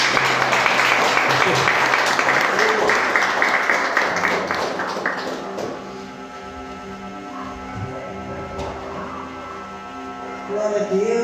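A church congregation at a teaching service applauds, dense clapping that is loud for about five seconds, then thins and fades to a softer murmur of scattered claps.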